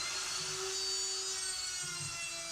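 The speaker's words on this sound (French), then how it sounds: "on entend un bruit de ponceuse" A power sander runs steadily in a workshop, a faint continuous whirring hiss with a slight tonal whine and no pauses.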